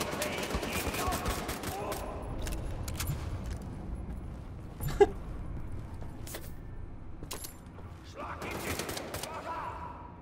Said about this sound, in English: I think there's a cap on how fast you can fire this gun.